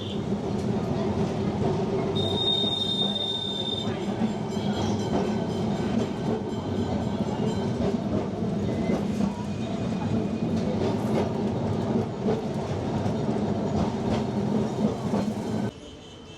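A Kolkata tram rumbles along its rails with a steady low roar and rattling, a brief high squeal early on, continuous and close throughout.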